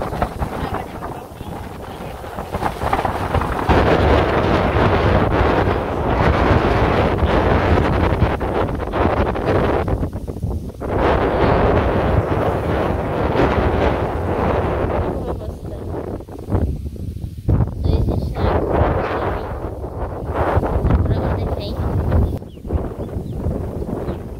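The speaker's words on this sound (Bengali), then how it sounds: "এত বাতাস" Strong wind buffets the microphone outdoors, giving a loud, continuous roar that rises and falls in gusts, with faint voices underneath.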